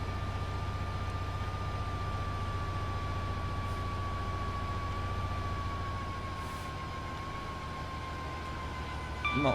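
Steady diesel freight locomotive engine drone in Train Sim World, a Class 66, with a sustained high whine, loud and continuous, briefly revving back up at the very end as power comes off.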